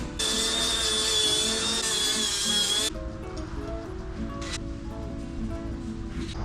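A grinder works a metal part for about three seconds, a loud, steady whine with a bright ringing edge, then cuts off, leaving a quieter hum and low rumble for the remaining seconds.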